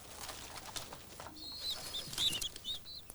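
Pigeons feed on grain and grit nearby, giving quiet soft coos and short bursts of wing flapping, along with faint scattered chirps over a low, muffled background.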